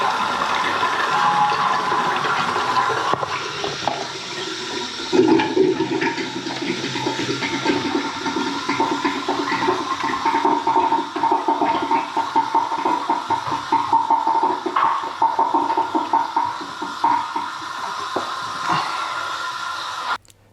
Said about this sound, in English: just in time for the urinals to flush